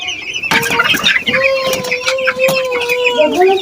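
Chickens in a shed cluck and squawk continuously at close range, several birds overlapping with rising calls and scattered rustling, while a person talks over them.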